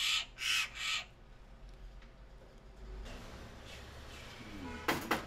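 A rescued Eurasian jay, recovered from exhaustion, gives three loud harsh calls in quick succession near the start, followed by quieter background noise and a couple of sharp sounds at the end.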